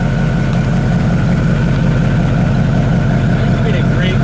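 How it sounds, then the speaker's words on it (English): A 1960 Chevrolet Impala engine idles steadily through dual exhaust, a continuous low rumble that holds even and close throughout, with faint voices underneath. "Dual exhaust sounds good."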